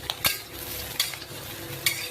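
Steady sizzling of bitter gourd frying in a pan with a few sharp scraping clicks of a spoon stirring, close by, no voices.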